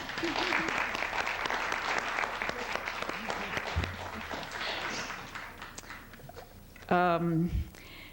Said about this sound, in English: give a round of applause to the chair and her aide for being here all this time